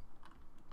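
Brief, faint burst of a few quick keystrokes on a computer keyboard typed into the Windows start menu search, heard alone.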